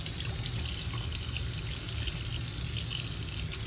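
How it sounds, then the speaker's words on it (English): Warm water runs steadily from a tap while a FlexSeries electric shaver is rinsed of hairs, a constant close splashing rush with no pauses. "turn on the water, some warm water. I'm going to actually run it underneath"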